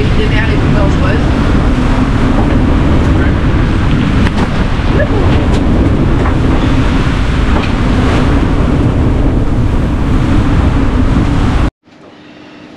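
A sailing boat on the open Mediterranean off Spain shoulders into a head-on swell, making a continuous loud rush of water and wind buffeting the microphone, which cuts off abruptly near the end into a much quieter hiss.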